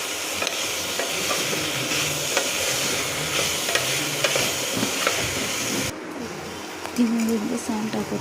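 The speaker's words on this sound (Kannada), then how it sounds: "ಚೆನ್ನಾಗಿ ಫ್ರೈ ಮಾಡ್ಕೊತೀನಿ." Vegetables with green peas fry and get stirred in a pan for vegetable pulao, a loud hiss with scraping stirs, easing off partway; birds coo in the background and a voice talks.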